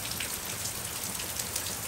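Heavy rain pours down steadily and close, a dense, even hiss of drops striking surfaces with no other sound.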